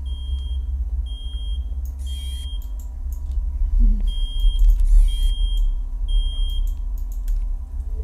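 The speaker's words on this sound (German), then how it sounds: "Oh, jetzt piept hier irgendwas. Ja, im Spiel. Also im Spiel, ja. Ah, der Wecker." In a VHS-style horror video game, an alarm clock beeps in short, evenly spaced high electronic pulses over a low steady rumble, with brief bursts of other game noise between the beeps.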